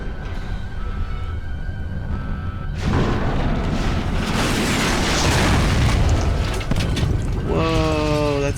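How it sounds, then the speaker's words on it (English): Rockets launching in Fallout: New Vegas: after a few quieter seconds, a loud, sustained, roaring rumble erupts and carries on, with a rising whistling tone near the end. "There's the rockets."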